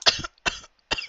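Three sharp, close coughs in quick succession, evenly spaced and alone.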